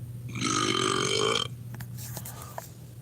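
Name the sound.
Google Home smart speaker playing a burp sound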